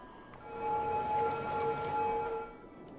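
Ambulance sirens in the Cities: Skylines video game rise and hold as a steady two-tone wail for a couple of seconds, moderately distant and fairly quiet, then fade away.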